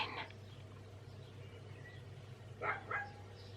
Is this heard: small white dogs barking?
yes